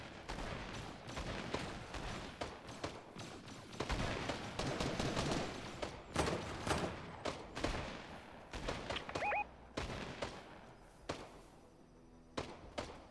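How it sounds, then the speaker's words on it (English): Rapid gunfire from an enemy player on a rooftop in a shooter video game, sounding as repeated sharp bursts of shots scattered through a busy, loud game mix. "The guy on top of this roof is shooting at you."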